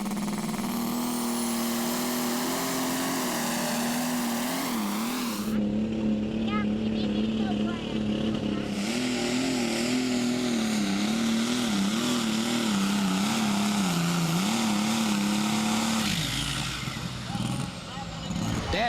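An alcohol-fueled International tractor roars through a dirt tractor pull, its engine loud and sustained with pitch shifting as it strains, while a voice talks over part of it.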